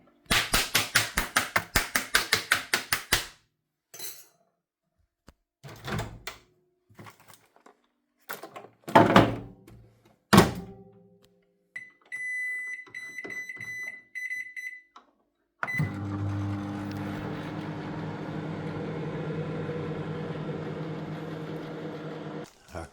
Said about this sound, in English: get it in the microwave for its first half of cooking